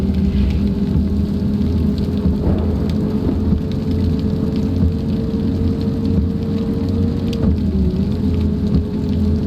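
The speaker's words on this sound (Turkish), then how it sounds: "Yağmur başladı. Çok güzel yağıyor ya." Steady rain patters continuously over a low bus engine rumble in a bus simulator video game, a dense, even hiss with no talking.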